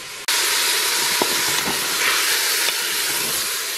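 Paupiettes browning in a hot pan start sizzling abruptly after a brief quiet moment, then hold a loud, steady hiss with a few faint clicks and pops.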